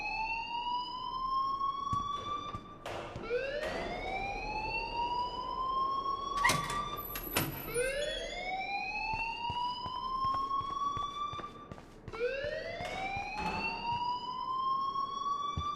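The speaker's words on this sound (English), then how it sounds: "please turn off that alarm since that's your job" Fire alarm blaring inside a school in the video game Life Is Strange, loud rising electronic whoops repeating roughly every three to four seconds, steady and close with no talk.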